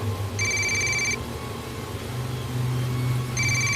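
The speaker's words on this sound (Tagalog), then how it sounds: "bigla akong magising sa isang tawag sa cellphone" A cellphone rings with an incoming call in the early hours of the morning, two bursts of repeated electronic ring tones, one at the start and one at the end, over a steady low rumble.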